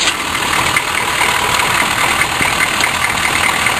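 A diesel Suburban engine runs steadily after its glow plug cycle, a loud, continuous rumbling idle with an even hiss and knock that stays constant throughout, close by and with no voices.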